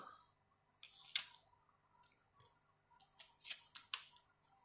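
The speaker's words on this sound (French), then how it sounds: "je vais venir mettre du scotch" Adhesive tape is pulled and pressed onto the back of an acetate sheet on a stamping board, giving a series of quick, crisp tearing and crackling bursts up close.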